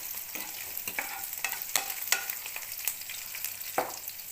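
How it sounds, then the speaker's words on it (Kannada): A tempering of hot oil goes into a greens saaru. A quiet sizzle runs underneath sharp, separate crackles and pops that come every half second or so, close by, with no talking. "ಇಲ್ಲಿ ಒಗ್ಗರಣೆ ಹಾಕ್ತಾಯಿದ್ದೀನಿ ಸಾರಿಗೆ."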